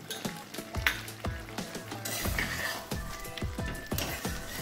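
Slit green chillies and mustard oil are stirred into an elephant yam curry in a pan. A spoon scrapes and knocks against the pan in a quick, repeated rhythm over a steady sizzle, close and moderately loud.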